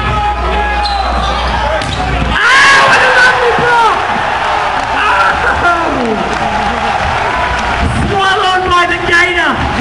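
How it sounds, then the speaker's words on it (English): Loud gym crowd at a volleyball match roars and cheers throughout, with a sharp swell of shouting early on and an announcer talking over the noise. "And the crowd shows their appreciation once again"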